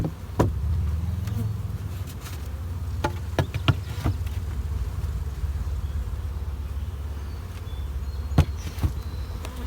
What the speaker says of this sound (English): There's maybe half a dozen bees in here.